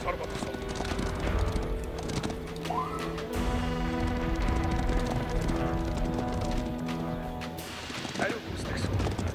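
Mongol Mangudai horse archers gallop across the field in Age of Empires 4, a steady stream of hoofbeat clip-clops with an occasional whinny. The hooves play at moderate volume beneath spoken narration.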